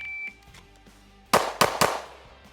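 Three sharp, loud pistol shots from a Smith & Wesson M&P Carry Comp, fired close in quick succession after a quiet pause, each crack ringing out briefly.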